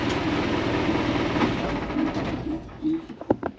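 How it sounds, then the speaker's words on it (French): A truck engine rumbles steadily up close, then cuts out and winds down, leaving a few short clunks and knocks in the near quiet. "Je coupe le moteur et on en reparle."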